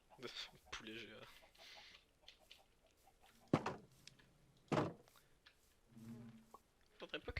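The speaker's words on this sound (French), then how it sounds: "Poulet géant." Giant chicken in a Minecraft-style multiplayer game clucking in a few short bursts, mixed with game effects and people talking over it.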